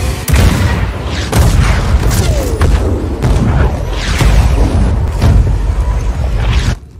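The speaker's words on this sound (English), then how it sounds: "Engage all artillery towers." Artillery towers firing in the video game Just Cause 4, a dense barrage of deep booms and blasts rolling continuously, loud and close, with several sharper bursts standing out over the rumble.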